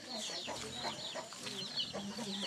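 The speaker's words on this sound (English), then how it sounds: "Little baby chicken." Baby chickens in a Karen village in northern Thailand cluck and peep softly in a quiet, close cluster of short calls, with faint voices in the background.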